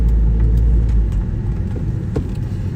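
A 1997 Volvo 850R automatic estate, 26 years old, pulls away from rest, its engine a steady, close low rumble that eases slightly as it gets moving, with no talking.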